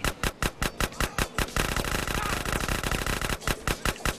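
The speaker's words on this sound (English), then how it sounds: "Am I getting shot by this asshole, really?" Rhythmic GTA San Andreas gunfire starts as evenly spaced single shots, runs together into a sustained rattling burst, then drops back to spaced, punchy shots.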